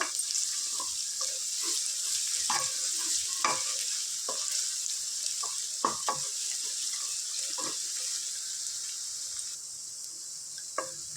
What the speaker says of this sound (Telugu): అల్లం వెల్లుల్లి పేస్ట్ పచ్చి వాసన పోయేంత వరకు చక్కగా ఫ్రై చేసుకుందాం